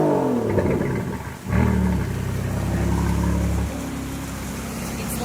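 The in-house built engine of a Superleggera car idles and revs with a deep, low growl, a loud rumbling note that swells after a brief dip and then settles into a steady throb.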